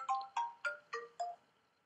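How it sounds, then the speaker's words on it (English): A mobile phone ringtone plays five quick, evenly spaced electronic chimes, moderately faint, with no voices over it. "That was my phone."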